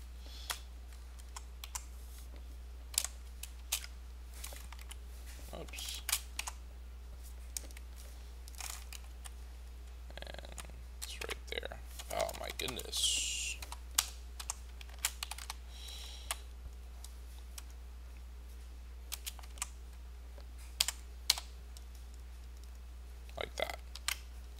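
Code is typed on a computer keyboard in scattered bursts of quiet, close key clicks over a steady low hum, with a few brief pauses.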